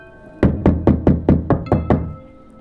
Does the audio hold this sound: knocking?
yes